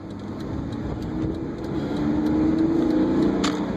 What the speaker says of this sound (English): go to 1st, give it gas, let off the clutch.